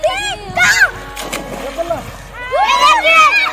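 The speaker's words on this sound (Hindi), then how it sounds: "पापा जी प्राची और यश यहाँ पानी में कूदे पड़े हैं।" People splash in river water, with bursts of sloshing and spray mixed through lively voices and shouting nearby.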